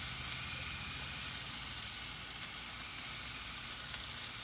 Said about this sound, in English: as you can hear that sizzle